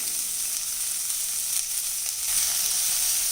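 Onions sauté in a pan for a Kerala chicken perattu, producing a continuous, even hiss of frying with no talking.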